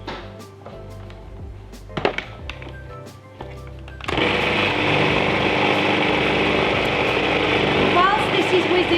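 A blender mixing vegan, gluten-free cheesecake batter with corn flour, vanilla and apple cider vinegar starts after a few seconds of kitchen clatter and runs loud and steady to the end.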